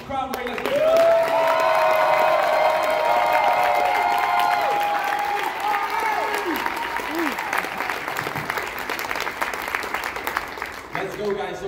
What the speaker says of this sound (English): we really got to make some noise for our CEO, Mr. Cory, Kromray